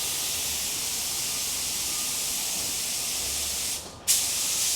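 A spray gun sprays 2K paint onto a wheel, a close, steady hiss of air and paint mist that briefly cuts out near the end and then resumes.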